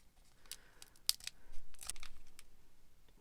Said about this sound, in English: I need to cut it so I can open it up